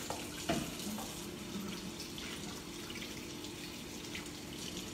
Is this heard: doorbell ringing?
no